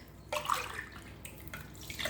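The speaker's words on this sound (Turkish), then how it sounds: "Üzerine 4 su bardağı da su ilave ediyorum" Four glasses of water poured over sugar in a pot for dessert syrup, a brief soft splashing stream that starts and stops a few times, quiet and close with no talk.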